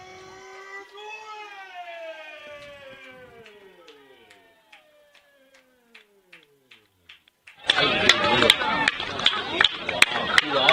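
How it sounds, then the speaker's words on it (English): A high school baseball crowd erupts after a game-winning RBI in a 2-1 varsity win. High wavering tones fade out first, then loud, dense cheering and clapping burst in near the end and keep building. "Listen to the crowd."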